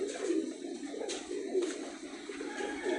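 Pakistani flying pigeons coo in soft, low, repeated throaty calls close by, several birds overlapping over a constant background murmur.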